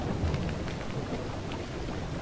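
Steady rain falling in the farming game Farming Simulator 22, a continuous dense hiss with low rumbling underneath, constant in level and free of speech.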